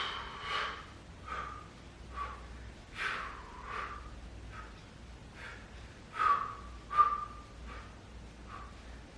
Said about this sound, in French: Je souffle, j'inspire